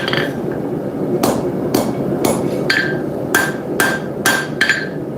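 Sharp hammer blows strike a blade while forging its bevels, about eight ringing metallic hits at an uneven pace over a steady background hum, with no talk.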